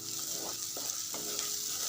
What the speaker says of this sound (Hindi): तो इसे लगभग हम भून लेते हैं 5 से 7 मिनट